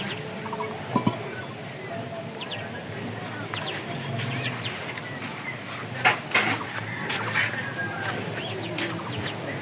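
A large village duck in rural Bangladesh, kept for cooking, gives scattered short calls and honks over steady outdoor background noise, with a person's voice also present.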